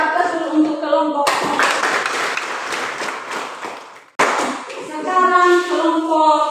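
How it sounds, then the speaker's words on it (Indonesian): A group of students in a classroom bursts into loud clapping that carries on for several seconds, with a brief drop before a second strong burst, while a teacher's voice is heard before and after the applause. "Berikan aplaus dulu untuk kelompok."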